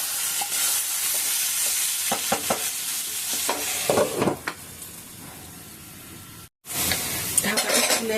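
Vegetables for shukto sizzle as they fry in a pan while a utensil scrapes and taps against the metal. There is a brief cut of silence, then the frying resumes.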